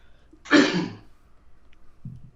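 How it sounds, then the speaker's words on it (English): A single harsh throat clearing, close and loud, followed by quiet and a faint murmur. "Let me clear my throat."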